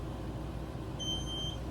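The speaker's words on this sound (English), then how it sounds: "that's my 5-minute timer" A five-minute kitchen timer gives one faint, thin, high beep lasting about half a second over a steady rumbling background while banana jam is being made.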